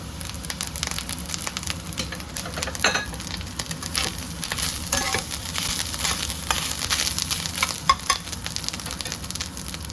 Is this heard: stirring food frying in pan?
yes